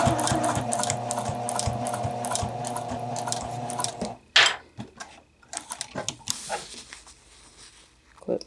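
A sewing machine stitches a jacket sleeve, running in a fast, steady mechanical patter up close for about four seconds, then stopping, followed by sparse handling rustles and clicks.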